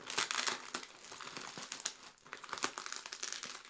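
Close, crisp crinkling and rustling of packaging being pulled open by hand, coming in irregular bursts with short pauses and no talking.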